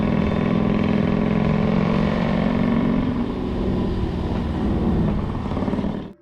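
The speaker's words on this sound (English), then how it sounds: "A bike powered by a monstrous 1330cc V-twin engine, complete with an electric start and modern suspension." A motorcycle with a 1330cc V-twin engine, electric start and modern suspension runs loudly up close, a steady deep rumble that eases slightly midway and cuts off abruptly at the end.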